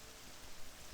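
Rain falls at night in the video game Morrowind, a soft, even hiss of steady rainfall that stays low in level across a brief moment.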